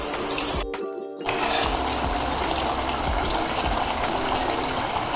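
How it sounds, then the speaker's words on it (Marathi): Hot water is poured into a pan of cashew and potato masala curry, a steady close gushing pour that starts after a brief quiet gap and runs on continuously. "आपण आता आधी गरम पाणी घालणार आहोत"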